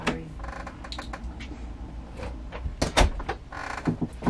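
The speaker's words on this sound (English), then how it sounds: "I gotta open the door." A house door being opened, with a few clicks, knocks and scraping thumps spread over a few seconds, close by and moderately loud, with no speech.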